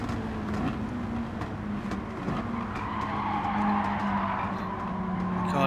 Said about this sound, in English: Here comes Wayne Schneider, the Porsche coming through, the 996.